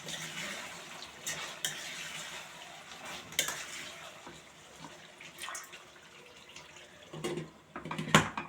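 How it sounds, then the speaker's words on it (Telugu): A mixture being stirred in a cooking pot, with quiet scraping and sloshing, occasional louder spoon knocks against the metal, and a brief clatter of utensils toward the end. "బాగా కలుపుకోవాలి"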